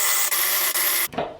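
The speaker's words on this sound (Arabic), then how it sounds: "وفي المفرمة الكهربائية نفرم الخليط" An electric food chopper minces a chicken and spice mixture with a loud, steady grinding whir that runs for about a second and then cuts off abruptly.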